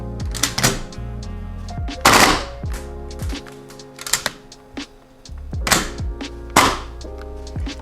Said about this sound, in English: It was shooting semi-automatically pretty well.